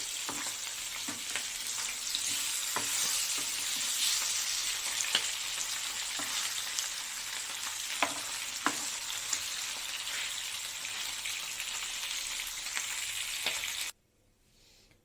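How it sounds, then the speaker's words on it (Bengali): Bhetki fish fillets fry lightly in oil for a malaikari dish, a steady close hiss and crackle with scattered sharp pops, cutting off abruptly near the end. "আমার একবারে যে কটা মাছ আছে একবারেই হয়ে যাবে হালকা ভেজে তুলবো মানে কড়া ভাজবো না"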